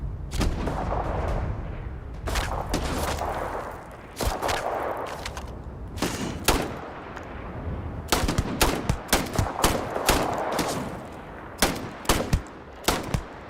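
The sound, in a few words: shotgun gunfire in the video game Starfield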